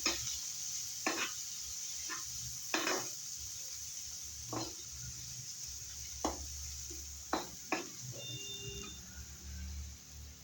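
Curry leaves and turmeric are stirred in a pan for Maharashtrian pithla, with sharp scraping strokes of a spoon recurring every second or so over a steady low sizzle, close and fairly loud, no one speaking.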